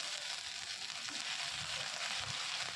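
Ginger and green chili paste hitting hot oil with dried red chili and five-spice tempering, giving a steady, close hiss of frying with faint stirring clicks underneath, no voices.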